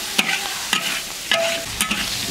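Wind-dried cured fish and chopped chili stir-fried in a wok: a steady sizzle broken by four sharp scraping strokes of the spatula, close and fairly loud, with no voices.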